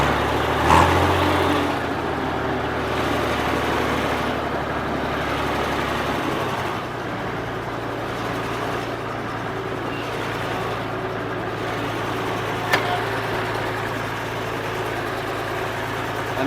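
An Allis Chalmers WD45 diesel tractor engine runs steadily at a low idle after sitting for two years, a continuous near rumble with a brief shift in tone partway through and no talking.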